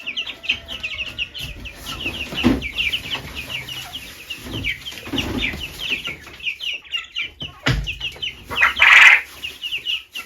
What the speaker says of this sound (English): I think that's a rooster crowing, or I should say male quail crowing.